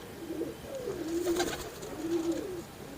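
Paired Hercules-breed pigeons on a rooftop coo softly in low repeated warbling calls, close by and quiet, with no voices.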